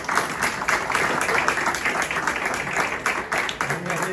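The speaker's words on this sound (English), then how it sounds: "Let's have another round of applause for David and his family" Audience applauding an author at a book talk, a round of moderate clapping from a modest crowd with some voices underneath, continuing steadily.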